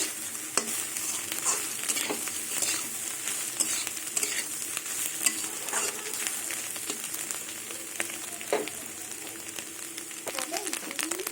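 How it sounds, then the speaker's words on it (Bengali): Beetroot, carrot and peas stir-fried with egg bhujia in a pan, a soft continuous sizzle broken by frequent scraping stirs, fairly quiet and close. "এবার ডিমের ভুজিয়া দিয়ে কিছুক্ষণ আবার একটু নাড়াচাড়া করে নেব"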